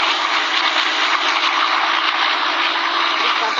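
A truck's engine with a turbo fitted with a whistle attachment in the Global Truck game, giving a steady, loud, continuous whine and roar with no talk.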